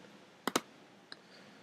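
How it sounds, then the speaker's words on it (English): A computer mouse clicking an on-screen button: a quick double click followed by a single fainter click, crisp and close against a quiet room background. "We do this by clicking this button on the left side."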